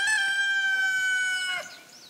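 A rooster crows once nearby, a loud sustained harmonic call that ends with a short falling tail, with no voices over it.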